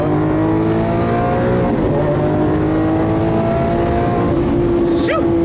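Lamborghini Aventador engine holding a loud, sustained high rev under acceleration, a steady droning note that wavers and shifts pitch slightly near the end, continuous for the whole stretch.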